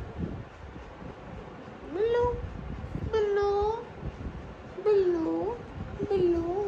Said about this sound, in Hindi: मेरे पास एक रियल बिल्ली है